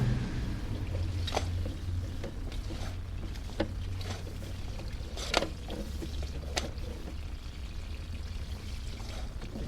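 Water keeps pouring through a sewer clean-out next to roof vents, a continuous gurgling flow broken by scattered splashes and knocks, fairly faint, with no talk.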